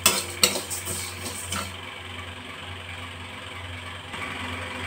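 Mung dal frying in a pan, stirred with a utensil: a few sharp metallic clinks and scrapes up front, then a low, steady hum of gentle frying close by.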